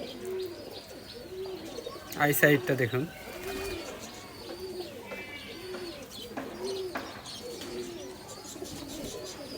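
Young Fulshira pigeon chicks coo softly and repeatedly close by, with a short burst of rustling or wing flapping early on, while someone talks over them throughout.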